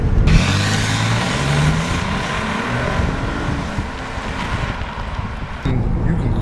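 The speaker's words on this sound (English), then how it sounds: "Clearly tell that it's a V6" Engine and road noise inside a 2015 Hyundai Genesis with its V6 driven in Sport mode, a steady loud drone with rising engine tones and a sudden shift near the end.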